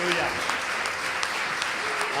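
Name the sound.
congregation applause for the glory of God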